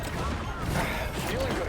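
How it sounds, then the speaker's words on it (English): Rocket launchers fire in a video game, a dense burst of whooshing blasts and mechanical clatter packed together with no gaps, loud and close in the mix. "Rockets, fire!"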